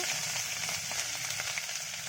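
A steady, close sizzle of onion paste frying in hot oil in a wok, crackling evenly throughout with no voices.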